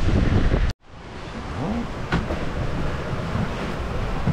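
Strong wind of around 30 knots roars steadily across a sailboat at sea in the Caribbean in rain, with rushing water and broadband gusting noise, cut by one brief dropout near the start and then continuing loud and unbroken.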